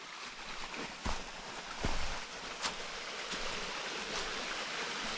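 A stream flows beside the Appalachian Trail among rhododendrons, a steady faint rushing with a few soft splashes and thumps, no voices.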